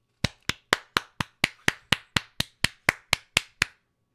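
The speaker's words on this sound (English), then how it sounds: "This is me clapping." One person clapping their hands alone, about fifteen sharp, evenly spaced claps in a steady rhythm, loud and close with nothing else under them.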